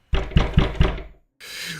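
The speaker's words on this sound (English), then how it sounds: "we heard a knocking begin at my front door" Four sharp, evenly spaced knocks strike a front door, loud and close, followed by a short silence and then a hiss of background noise.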